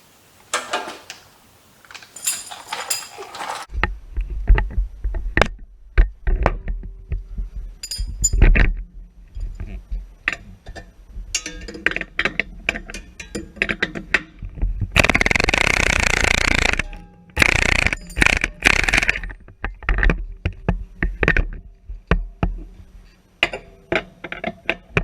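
Tools work loose the rear track bar bolts on a Jeep JK Rubicon, with close metallic clinks, ratcheting bursts and clanks of parts and wrenches, separated by brief quiet gaps.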